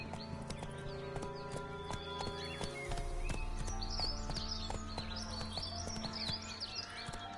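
Horse Roach's hooves clip-clop at a steady gallop in The Witcher 3, loud and continuous for the whole stretch, with game music and faint birdsong chirping in the background.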